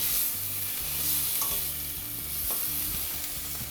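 Marbled beef searing with salt in a frying pan, a continuous soft sizzle with small crackles and occasional handling noises, close and unaccompanied by speech.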